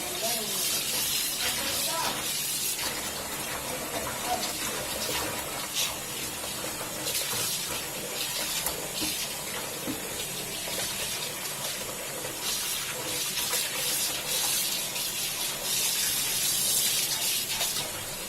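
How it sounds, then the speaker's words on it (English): Tap water runs continuously with splashing and gushing, as if something is being rinsed in a sink, steady and fairly close. "This is the fourth rinse and the water is already clear."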